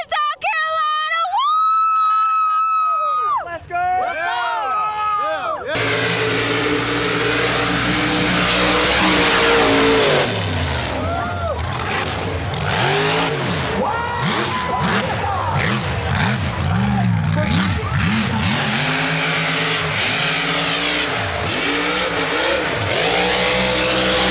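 Modified trucks rev hard at a South Carolina mud bog, their engines roaring loud and close in sustained surges and throttle blips, with crowd voices and talk mixed underneath.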